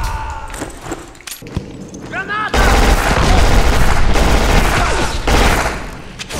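Gunfire in the video game Black: a quieter stretch of scattered single shots and footsteps, then a sudden loud, sustained burst of rapid automatic fire and explosions that continues to the end.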